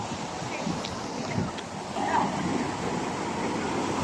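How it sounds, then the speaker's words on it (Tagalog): Strong ocean waves roll onto a beach in Batangas, a steady broadband wash with wind buffeting the microphone and faint voices in the background. "Lakas ng alon"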